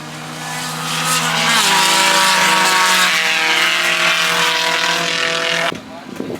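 A race car stuck in fifth gear drones loudly past during an endurance race, its steady engine note sustained and rising slightly, close and dominant, before the sound drops off sharply near the end.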